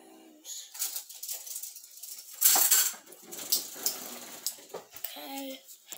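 Spoons mixing in a bowl, a run of quick metallic clinks and scrapes at an uneven rhythm, close and moderately loud, with bits of voice around them.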